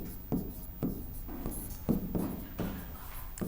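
A teacher writing words on a board, a series of scratchy, close strokes in irregular bursts, with no talking.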